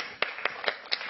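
A few separate handclaps from an audience at a design talk, four sharp claps spaced about a quarter second apart, close and distinct rather than a full round of applause.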